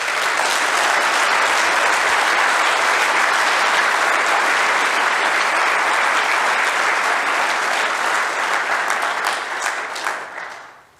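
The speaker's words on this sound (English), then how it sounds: "So let's have a huge round of applause." Conference audience at the AppSec NZ 2021 opening session breaks into sustained applause, a dense wash of many hands clapping that holds steady for about ten seconds before fading out.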